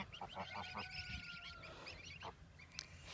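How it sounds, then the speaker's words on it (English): Goslings and mother geese on a farm chattering back and forth, with short honks and soft calls over a low background hum, fairly close but quiet. "the goslings are all very talkative. They chatter with their mothers quite a bit"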